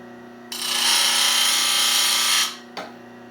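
A Rikon sharpening system grinds a Robert Sorby skew chisel in one loud, steady burst of roughly two seconds over a motor hum, then a brief second touch follows after a short pause.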